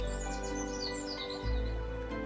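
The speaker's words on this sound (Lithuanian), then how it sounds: "paukščio mes klausomės rytą dainos" Birds singing and chirping on a morning by the seaside, bright tweets repeating in quick runs over a steady background hum, moderately close and fairly soft.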